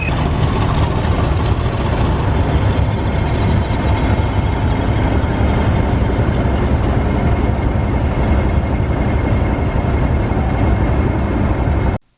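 Heavy diesel locomotive on a heritage railway, a loud, steady engine drone with deep throbbing low end and constant mechanical hum, continuous and close, cutting off abruptly at the end.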